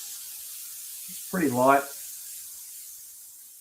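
An airbrush sprays paint onto a canvas for zombie artwork, giving a steady, soft hiss that runs through the whole stretch, with a brief spoken remark in the middle.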